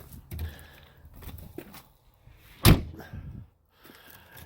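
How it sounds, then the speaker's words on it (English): A door on an old Case tractor being restored is shut with a single sharp slam near the middle, loud and close amid quiet workshop shuffling. "I gotta shut this door."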